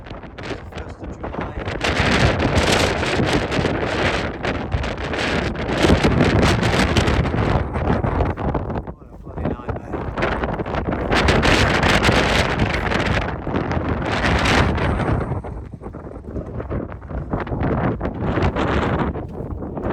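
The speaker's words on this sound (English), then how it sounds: "Particularly safe up here, very, very windy." Strong, gusty wind roars across an exposed Appalachian Trail mountain ridge near a hut, buffeting the microphone loudly and almost without pause, with one brief lull midway.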